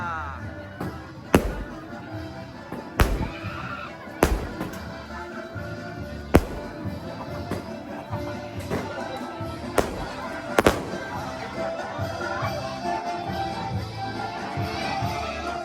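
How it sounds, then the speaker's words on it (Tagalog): Fireworks go off in sharp, irregular booms every second or two at a town fiesta in Hagonoy, Bulacan, echoing over a busy outdoor background with distant crowd murmur. "At meron po tayong pa-fireworks."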